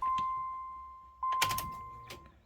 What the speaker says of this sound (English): Door chimes, fuel pump.